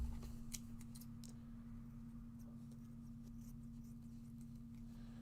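Scissors snip a small fuzz cut into card for a handmade card, a few quick, light clicking cuts heard close and faint over a steady low hum.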